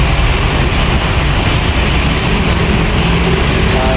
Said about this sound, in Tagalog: bumuhos na naman ang ulan.